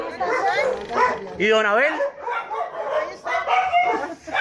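Dogs in a cramped home kennel belonging to an elderly man, kept in poor condition, yip and bark with whimpering tones, close and fairly loud, mixed with ongoing conversation among several people.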